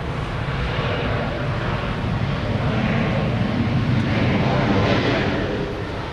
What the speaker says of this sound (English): Hear a plane landing over on the west side.